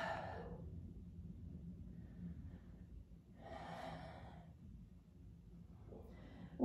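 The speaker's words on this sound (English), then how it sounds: "Breathing deeply." Slow, deep breaths drawn during a yoga shoulder-opening exercise, each inhale and exhale soft and near, separated by long quiet pauses over a low room rumble.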